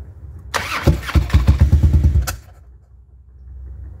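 A Harley-Davidson Twin Cam motorcycle engine with fuel injection, running poorly and unable to stay running, cranks and sputters loudly up close for about two seconds in a rough pulsing burst, then dies back to near silence.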